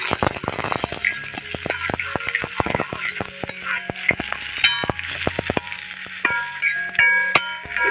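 Small onions for mutton chukka fry in a pan with a continuous close sizzle, broken by sharp metallic clicks and scrapes of a spatula stirring against the pan.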